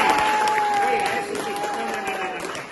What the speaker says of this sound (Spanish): Ese aplauso fue muy chiquito para este.